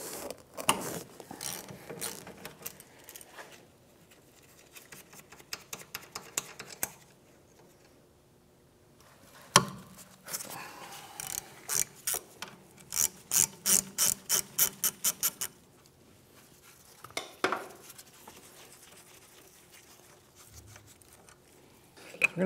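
A ratchet socket wrench clicks in quick bursts while removing 14 mm rear brake caliper bolts on a 2011-2016 Hyundai Elantra, with rapid close ratcheting separated by short pauses.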